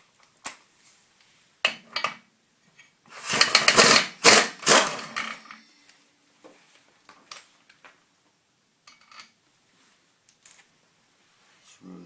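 A bolt on the secondary clutch of a Kawasaki V-twin snowmobile CVT is worked loose with a tool, giving a short burst of bright mechanical clicking and whirring in the middle. Scattered faint clicks and taps fall before and after it.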